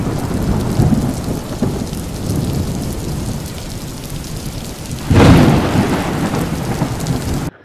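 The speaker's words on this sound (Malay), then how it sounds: "Hujan masih lebat ni." Heavy rain hisses steadily in the Car Parking Multiplayer video game, with low rumbling thunder swelling loud partway through before easing back under the downpour.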